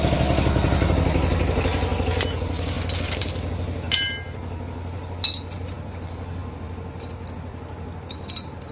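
Metal motorcycle clutch plates and steel plates on a CBZ Xtreme clink and tap as they are fitted, over a steady low engine-like hum from nearby, with scattered sharp chinks.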